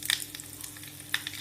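Mustard seeds and cumin crackle and sizzle in hot oil, with quick popping bursts over a soft steady frying hiss, close and fairly quiet.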